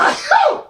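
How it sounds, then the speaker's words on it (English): A single sharp human sneeze, close and loud, lasting under a second and standing alone without talk. "Yeah, I'm just sneezing."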